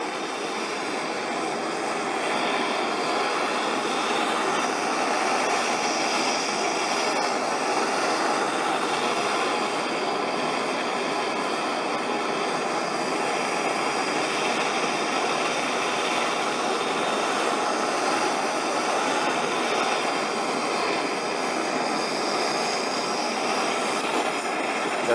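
A gas torch flame roars steadily while melting gold powder, a continuous close hissing rush with no break and no voices.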